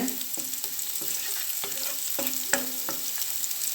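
Onions fry for noodles in a pan with soy sauce, a steady close sizzle broken by a run of regular stirring scrapes and taps against the pan, with no talking.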